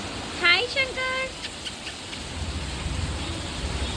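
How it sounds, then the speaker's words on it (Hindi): Steady rain falls in Rishikesh, a constant broadband hiss after a brief tonal chirp near the start, with faint distant sounds mixed in and no talking. "दोस्तों बारिश हो रही है,"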